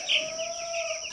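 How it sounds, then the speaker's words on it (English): Barn chickens cluck close by in a short, nasal burst that trails into a held tone, with quiet background. "Look out, chickens."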